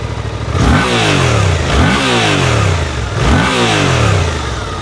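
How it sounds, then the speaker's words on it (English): A 2024 Suzuki GSX-8R parallel-twin motorcycle engine fires up and revs repeatedly, rising and falling in three loud sweeping bursts over a steady throbbing idle, close by. "Nice little parallel twin coming to life"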